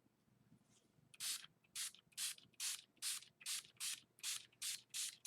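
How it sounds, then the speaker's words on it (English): A Tattered Angels Scarlet Glimmer Mist spray bottle is pumped onto a paper craft tag, producing about ten sharp, close hissing spritzes in a steady rhythm after a brief quiet start. "So I'm just spraying it really good,"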